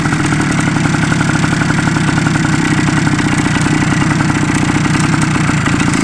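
A rebuilt Suzuki TS185 two-stroke motorcycle engine runs steadily and loudly on its first start, with a continuous rattly idle throughout and no talk.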